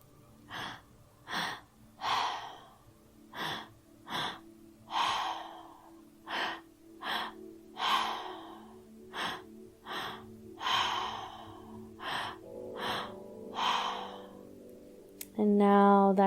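Active breathwork breathing, heard close up as a series of about fifteen forceful breaths in a quick, steady rhythm, each a sharp airy rush, with a short voiced sound at the very end.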